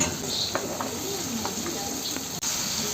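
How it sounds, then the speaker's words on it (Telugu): Thinly sliced bottle gourd sizzles in hot tempering oil with onions, green chilli, ginger and turmeric, a steady close hiss with a few light clicks and scrapes. "ఇదిగోండి సొరకాయ సన్నగా కట్ చేసుకున్నాం కదా ఇప్పుడు ఇవి తాలింపులో వేసుకున్నాం"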